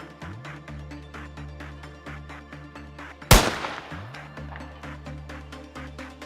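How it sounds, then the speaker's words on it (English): A single sharp, loud gunshot in a video game cracks out midway and decays quickly, set against a steady pulsing rhythmic game music track. "I saw the gunshot right before it went off."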